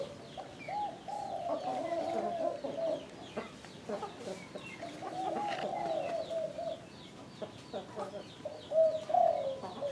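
Soft, low cooing phrases repeat from a Phu Yen spotted dove at moderate distance, with faint chirps and rustling in the background.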